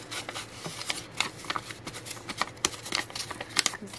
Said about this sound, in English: And then I'm going to crinkle it all up.